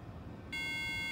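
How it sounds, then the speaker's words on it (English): A steady electronic beep from a 2010 Mac Pro during a firmware flash starts abruptly and holds as a sustained, clear tone over a low background hum. "We should hear the beep."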